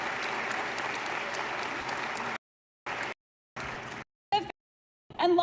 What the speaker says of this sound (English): Let's take and dedicated teachers and staff with a well-deserved round of applause.